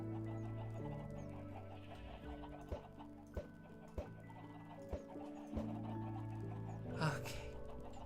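Minecraft chickens clucking in a farm, soft repeated clucks over steady background music, with a series of sharp clicks and a brief burst near the end, no talk.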